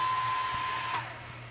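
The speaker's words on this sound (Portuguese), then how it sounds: "secador de cabelo e vamos derreter esse gelo até ele ir embora todo." A hair dryer blows with a steady, fairly quiet whir and a faint tone as it melts built-up ice inside a Bosch refrigerator. No voices are heard.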